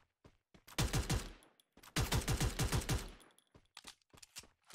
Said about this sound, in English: It sounds like he's right out here shooting.